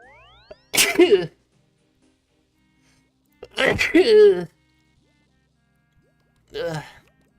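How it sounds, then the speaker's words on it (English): Three separate human sneezes, each sharp and loud, are set apart by long silences; the dusty air sets them off. "I'm sneezing."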